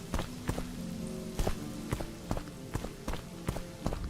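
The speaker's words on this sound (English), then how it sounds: "It sounds like it's raining." Steady rain patters in the video game Morrowind beneath a regular rhythm of footsteps, each step a sharp, close thud at roughly half-second intervals.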